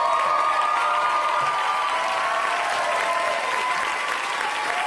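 A comedy club audience gives the stand-up comedians a loud, sustained round of applause with some cheering, dense clapping filling the room and holding steady for several seconds.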